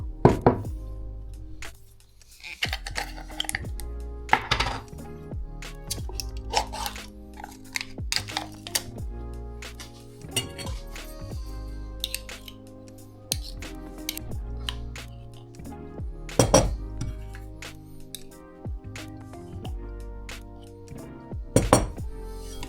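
Pistachio spread is worked in a bowl with a utensil, giving irregular clinks, knocks and scraping against the bowl, with louder sharp taps now and then and no talk.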